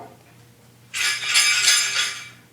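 A brief rush of granular sugar pours out after a quiet moment, a hissy, rattling stream lasting about a second and a half.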